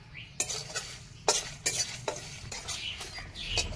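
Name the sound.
spices (cumin, coriander, dried chili) frying in a wok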